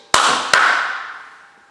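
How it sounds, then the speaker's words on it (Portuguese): Two crisp, close hand claps about half a second apart, each leaving a bright reverberant tail that fades away over the following second in a quiet room. "Palmas duas vezes."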